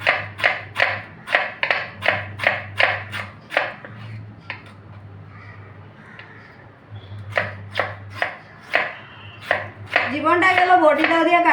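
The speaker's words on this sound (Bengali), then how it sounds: "তো টমাটোর প্রথমে এটা কাটতে ফালাইয়া দিব।" A tomato is chopped on a curved boti blade: quick, crisp, evenly spaced chops come in two close runs separated by a pause, and a voice speaks briefly at the end.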